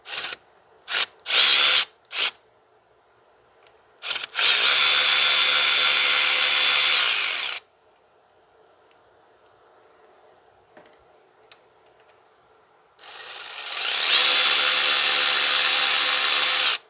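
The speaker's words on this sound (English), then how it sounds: "I'm just gonna remove these bolts." A power tool removes bolts from the coolant outlet housing on a 2006 Mazda 3 2.3, with short loud bursts, then two long whirring runs, and quiet ratchet clicks and tool handling between them.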